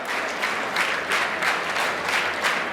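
An audience at a Vikarabad kabaddi association event gives a Speaker a warm welcome, with close, steady clapping that carries on without a break for a few seconds.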